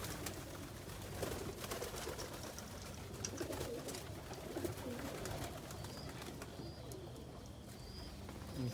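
Pigeons coo softly in a busy enclosed space, with rustling, shuffling and scattered low calls layered together at a moderate distance.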